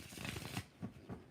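Tarot cards are shuffled by hand in quick riffling bursts, soft and close, followed by a few lighter card taps.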